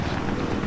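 Helicopter in Battlefield 3 multiplayer on the Kharg map, a steady low rotor drone with wind-like rush, continuous and fairly loud with no talk over it.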